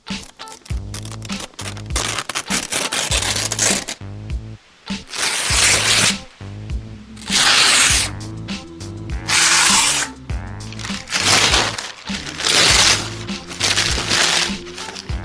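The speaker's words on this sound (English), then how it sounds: "A ripping sound effect, and it sounds like this." Loud bursts of paper ripping, several tears in quick succession over a low tonal hum, with brief gaps between them.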